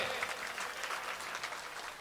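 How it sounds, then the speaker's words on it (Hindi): Audience clapping at a Hindi kavi sammelan comedy poetry show, a dense steady wash of many hands for two seconds, fairly faint and even throughout. "ताली बजाइए"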